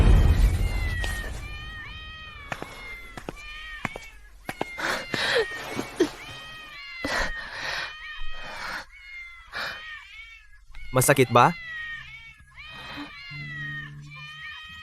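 A cat meows and caterwauls repeatedly in rising and falling cries, close and fairly loud, with people talking and a few scuffling bangs mixed in.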